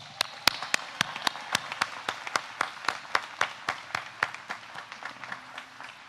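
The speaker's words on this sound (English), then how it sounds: "Please give the mothers and mother figures in your life an enthusiastic" Audience at a college commencement breaking into applause, a thin scattering of distinct, sharp claps with an uneven rhythm that carries on steadily, moderately close, no speech over it.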